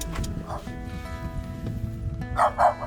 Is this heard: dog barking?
yes